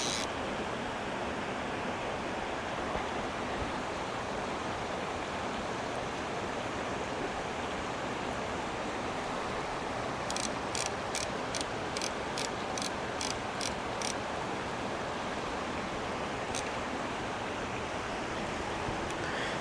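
Water flows through a narrow stretch of a desert creek, a steady broadband rush that stays even and continuous throughout, with a brief run of faint high ticking partway through.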